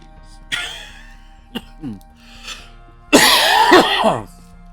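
A person coughs repeatedly, with a few single hacks and throat sounds early on, then a loud, harsh fit of coughing near the end.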